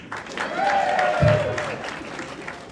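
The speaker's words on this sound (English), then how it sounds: "Round of applause, who here has spewed at a nightclub?" Comedy show audience applauding and cheering in a club, a brief swell of clapping and crowd noise with a voice rising over it.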